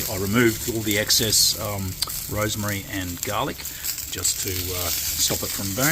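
A Coles lamb rack and peri chicken sizzle steadily on a charcoal La Parilla grill, a continuous close frying hiss running under someone talking.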